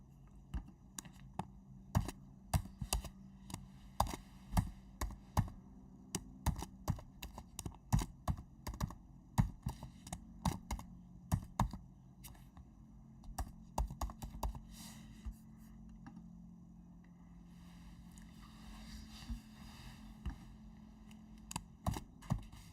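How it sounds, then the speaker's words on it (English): Quiet, irregular keystrokes as a password is typed on a computer keyboard, clicking in short uneven bursts with brief pauses, close and alone without talk. "So let me type the password."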